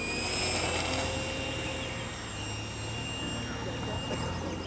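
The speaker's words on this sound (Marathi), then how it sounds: "आता 2 पंखाचं विमान आहे." A remote-controlled model biplane flies overhead at an aeromodelling show, giving a steady high-pitched buzzing engine drone at moderate distance under a continuous noisy background.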